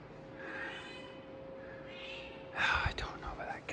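A cat meowing faintly over quiet background whispering, followed by louder vocal bursts near the end.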